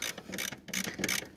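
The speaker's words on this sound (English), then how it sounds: "And we need a 13 socket. Hold on. Get this bolt loose." A ratchet wrench fitted with a 13 mm socket loosens a bolt while installing a kill switch on a Porsche, giving rapid, close metallic clicking in several short bursts with no talking.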